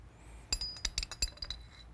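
A metal bushing is fitted onto the sleeve of a lapping tool for a Conval Clampseal globe valve, giving a quick series of close, bright metallic clinks and taps.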